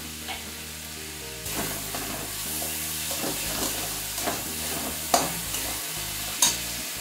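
Moong dal being stirred in hot oil in a pan, a steady soft sizzle under scraping spoon strokes, with a few sharper clinks from the utensil.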